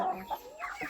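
Short, soft clucks from a Rhode Island Red chicken at a backyard breeder's yard, a couple of brief calls close by over faint background noise.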